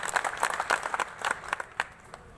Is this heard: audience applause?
yes